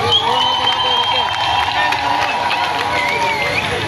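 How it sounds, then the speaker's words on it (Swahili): A crowd at a CCM political campaign rally in Madaba claps and cheers loudly and continuously, mixed with voices and a steady roar. "Jipigieni makofi"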